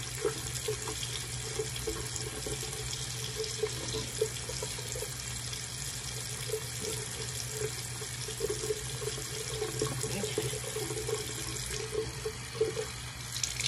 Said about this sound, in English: Okay, now we're gonna wash the face.